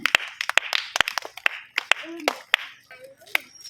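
An audience claps for the prize winners of a children's balloon-on-feet running game, sharp uneven handclaps bursting close and loud, mixed with voices talking and calling out over the clapping.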